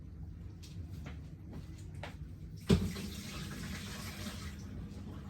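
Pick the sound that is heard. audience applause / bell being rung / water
water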